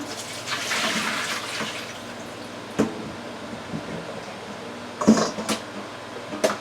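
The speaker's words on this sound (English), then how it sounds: "let me pour this water off" Cooking water from five boiled potatoes is poured off from a pot, a soft steady splash and trickle that swells at the start, with a few sharp knocks of the pot and lid near the end, close by and otherwise without talk.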